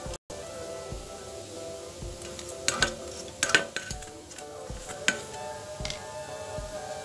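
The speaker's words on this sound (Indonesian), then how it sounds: "Dan ini kita ulek lagi sampai tercampur rata." A stone pestle pounds and grinds blended peanuts, tamarind and sugar into pecel sauce in a stone mortar, giving irregular soft thuds and scraping knocks over a quiet background.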